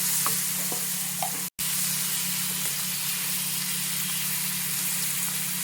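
Prawns frying in a pan with curry leaves, a steady broad sizzle holding throughout at close range, with a few faint stirring clicks and one brief dropout partway through.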